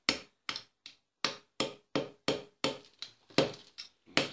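A small hammer taps on the plaster block of a children's Tyrannosaurus rex dig kit, about a dozen sharp, evenly spaced knocks close up with no talking.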